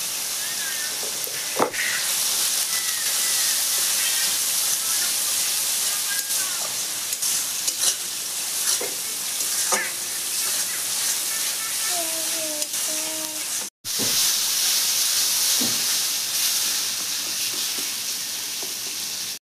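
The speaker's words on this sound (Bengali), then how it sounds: "মশলাটা খুব ভালো করে কষা দিচ্ছি" Spice paste of turmeric, cumin, coriander and chili powders is sautéed in a pan, giving a loud, steady frying sizzle and hiss that runs throughout with scattered stirring scrapes and a brief cut near the end.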